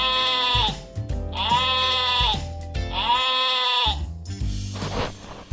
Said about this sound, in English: Goat. This is a goat.